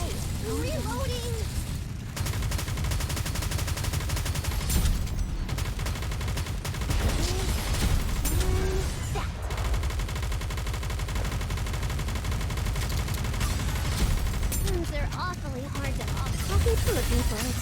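Gunfire in a mobile anime shooter game, a relentless barrage of rapid shots and booming impacts that stays loud across the whole stretch, with voices talking over the din.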